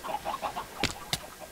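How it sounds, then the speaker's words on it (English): Chickens on a video game chicken farm cluck in a quick series of soft, close calls, followed by a couple of sharper clicks. "chickens are all up here"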